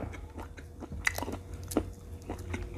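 Someone bites into and chews Thai fermented pork sausage (naem), served with fresh chili and garlic. Soft crunchy bites and wet chewing come close up in a quiet room, with a few sharper crunches standing out.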